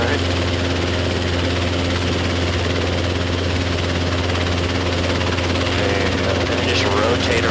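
A Robinson R22 helicopter lifts off slowly from a hover, its engine and rotor giving a steady, loud, droning hum from close inside the cabin with no break.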